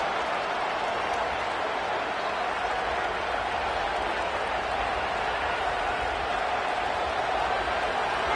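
Loud football stadium crowd roars steadily throughout, a dense sustained wash of cheering and noise at a big game, with no clear pauses.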